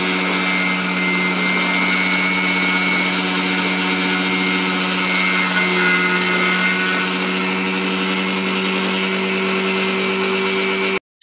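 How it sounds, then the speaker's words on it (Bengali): An electric mixer grinds about a kilogram of mustard seeds into paste for kasundi, its motor giving a steady, loud, close whine that runs unbroken for about eleven seconds before cutting off abruptly. "আমি তারপরে মিক্সারে সর্ষেগুলো বেটে"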